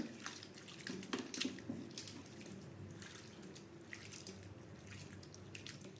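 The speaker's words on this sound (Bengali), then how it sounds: "এবার চিরাটাকে ধুয়ে নেব চিরাটাকে ভালো করে ধুয়ে নেবো" Flattened rice (chira) being washed in water, with soft dripping and splashing liquid sounds that run steadily throughout, close by and fairly quiet, and no voices.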